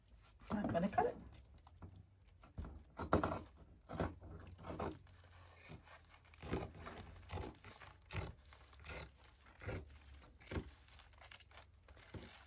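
Scissors cut through fabric along a chalk line in a series of close, soft snips and rustles, repeating at a loose, uneven pace.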